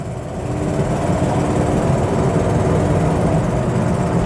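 A 1955 Lincoln Capri engine surges as the transmission kicks down, producing a loud, steady low engine roar that builds slightly and holds, heard from inside the moving car.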